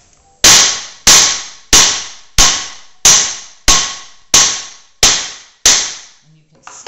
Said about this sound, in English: And I take the heaviest hammer I can find.